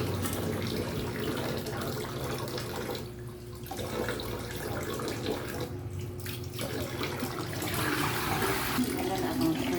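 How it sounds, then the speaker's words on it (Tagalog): Tap water runs steadily into a sink while raw shrimp are rinsed for seafood packaging, a continuous near splashing rush with two brief dips in flow. "First is hugasan ang shrimp."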